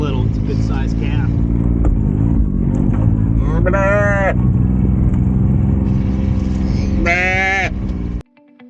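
Cows low and bellow in a pasture field during a late-morning move, several long mooing calls rising over a constant engine drone, with a calf among the herd and a brief cutoff near the end.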